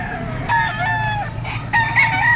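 A yellow-legged bulik gamefowl rooster crows at a busy early-bird gamefowl market in Bocaue, Bulacan, its drawn-out, wavering call up close over a low hum of crowd and background clucking.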